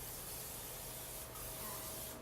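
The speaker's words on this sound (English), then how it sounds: "I always like to hit any non-stick thing with some butter. Some butter spray." Butter spray hissing from an aerosol can onto a non-stick pan, one continuous soft, even spray lasting about two seconds, close up with no talking.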